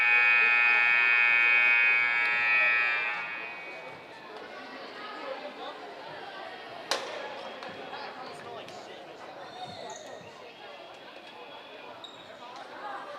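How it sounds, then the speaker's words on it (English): A long electronic buzzer sounds in a high school volleyball gym for about three seconds, then cuts off, leaving crowd chatter and a sharp thud partway through. "buzzer sounded"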